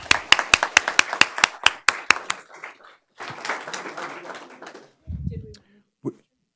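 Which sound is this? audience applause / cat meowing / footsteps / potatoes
audience applause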